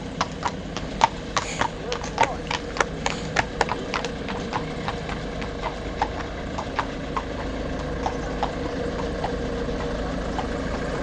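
A horse's hooves clip-clop steadily on a road, a close, regular rhythm of hard knocks over the low idle of a parked motorcycle engine.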